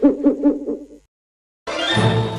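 Owl hooting in a radio show jingle, five rhythmic low hoots in quick succession, then a pause and a burst of bright full music.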